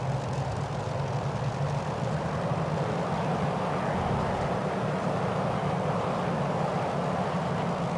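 A P-51D Mustang in Microsoft Flight Simulator taxis with its engine droning in a steady, loud, low rumble that holds constant throughout without pauses.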